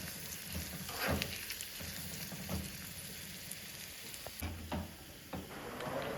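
Onions sauté in a pan for mushroom masala, a soft, steady sizzle and crackle with a few scraping stirs, low and close.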